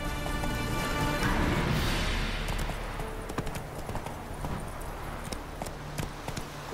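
Hoofbeats of Roach, the horse in the video game The Witcher 3, clip-clopping in a steady trot close by, a dense rush of noise at the start easing into distinct rhythmic hoof strikes.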